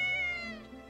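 A single cat meow from the video game Ys: Memories of Celceta, a clear tonal cry that slides gently downward and fades within about a second, close and alone.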